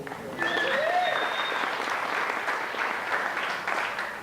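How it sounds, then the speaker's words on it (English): Wedding guests applaud during a toast, a steady, fairly close round of clapping with a brief whistle-like tone near the start. "you can give them a round of applause too"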